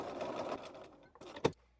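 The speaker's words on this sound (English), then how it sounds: "I follow the 1/2 inch line on my sewing machine" A sewing machine stitches a seam along a half-inch line, a brief faint whirring run of needle strokes followed by a short mechanical clack.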